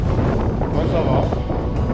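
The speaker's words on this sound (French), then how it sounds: "Malgré le vent au début, là il est de la gauche." Wind buffets the microphone during a 175 km road bike ride, a steady loud rumbling roar with no break.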